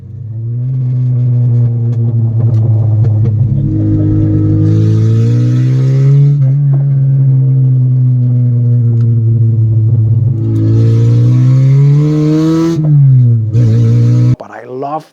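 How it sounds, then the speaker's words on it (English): An Abarth with a new aftermarket exhaust revs loudly and steadily, its engine note rising and falling, with brief crackles and pops as the revs drop. "The crackling sound"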